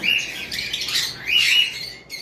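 A breeding pair of sun conure parrots, over three years old, give shrill, harsh squawking calls in two bursts, fairly close and loud, with no talking.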